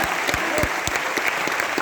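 Loud, steady applause from an audience at a Vestige business-plan seminar, with a few sharper individual claps standing out from the dense clapping throughout.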